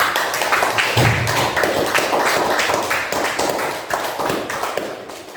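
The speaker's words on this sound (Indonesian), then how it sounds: "Sekali lagi kita beri aplaus untuk kita semua" An audience claps steadily in dense, continuous applause after a group discussion session, the patter of many hands filling the room throughout.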